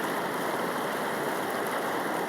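A riverside stream flows steadily, giving a continuous broadband rush of water with no breaks, fairly loud and close, with no voices.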